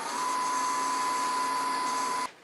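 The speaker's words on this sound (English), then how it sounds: "I could probably touch this up with 400 grit" A woodturned nativity piece is touched up with 400 grit sandpaper on the spinning lathe, giving a steady, loud whirring hum with a high whine that stops abruptly near the end.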